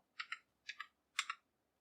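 Keyboard keys tapped in three short paired bursts while a password is entered into a Microsoft Word document, quiet and close with brief pauses between the strokes.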